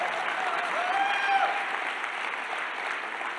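Audience applauding steadily at a motivational talk, a dense even wash of clapping at moderate distance that holds for the whole stretch with no talk over it.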